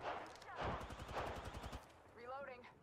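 A short, rapid burst of video game gunfire, evenly spaced shots rattling for about a second, with a voice talking around it.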